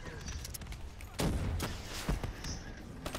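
Gunfire in Call of Duty: Black Ops III, a few sharp shots and booms scattered over a busy, muffled battle background, with faint voices in the mix.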